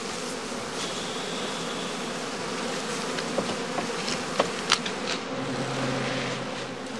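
Honeybees buzz inside a straw skep basket wrapped in cloth for transit, a soft continuous drone with occasional nearer insect passes and faint clicks, no voices.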